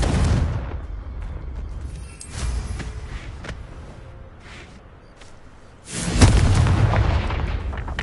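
A Confringo blasting curse in Hogwarts Legacy erupts in heavy booming explosions, a burst at the start, another mid-clip and a big loud blast near the end with rumbling tails.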